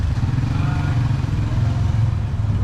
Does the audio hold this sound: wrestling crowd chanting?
no